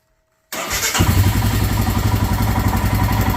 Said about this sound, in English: That is a perfect idle on this motorcycle.